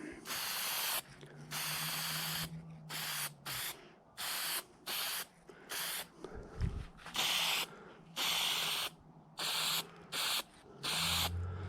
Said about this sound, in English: Very hard spraying small pieces.